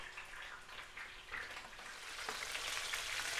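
Chicken pieces fry in oil for a Persian-style chicken dish, giving a soft, continuous sizzle with crackling that grows slightly busier. No voices are heard.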